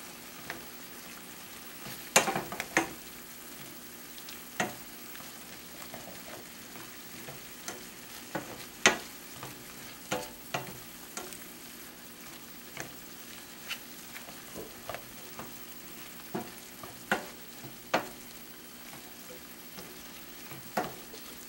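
Beef stroganoff ingredients with garlic and mushrooms fry in a pan, a steady soft sizzle broken by frequent sharp scrapes and clicks of stirring across the pan bottom, with no talking.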